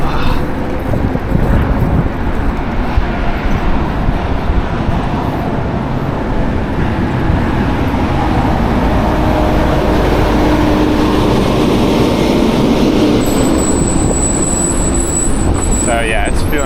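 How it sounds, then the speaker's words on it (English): Big trucks rolling through busy Chicago city traffic, heard from a bicycle: a continuous loud, broadband roar of engines and tyres fills the whole stretch, with a brief tonal whine near the end and a person talking over it. "Got all these big trucks, especially that one that I just passed."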